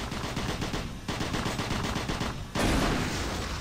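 Rapid gunshots from the video game Doom 3 BFG Edition, dense continuous automatic fire with a brief lull and a louder, heavier burst near the end over a constant background hum.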